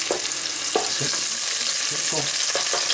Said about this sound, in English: Now Perry, do you want to come around and stir that? Be careful it's spitting, so don't put your hand over it.